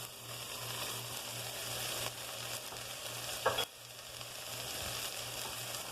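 Red peppers sizzling as they go into a hot frying pan, a steady soft hiss with a brief stirring clatter midway, no talking.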